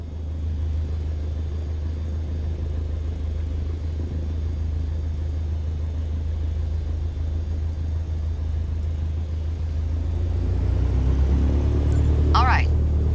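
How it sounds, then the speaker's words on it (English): A small aircraft engine in a flight simulator game holds a loud, steady low drone that swells and rises in pitch as the throttle is pushed up near the end, with a voice talking over it. "Now, gently increase throttle to get the aircraft moving."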